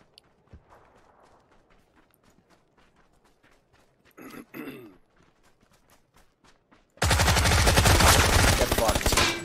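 Video game shootout gunfire: scattered faint footsteps and light clicks, a brief burst near the middle, then a loud, dense stretch of rapid automatic shots at the end.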